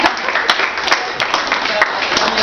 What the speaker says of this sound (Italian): A cui va esatto il primo applauso